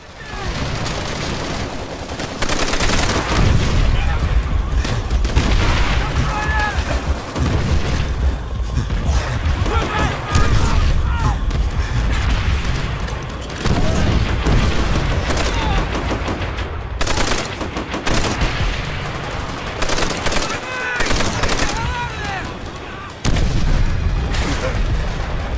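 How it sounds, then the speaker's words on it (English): Grenades burst in Call of Duty: World at War, a dense, loud barrage of explosions mixed with rapid gunfire that runs almost without a break, then pauses briefly before the blasts resume. "The grenades sometimes can go to comical degree, where 3 enemies will throw 8 grenades seemingly into their own ranks."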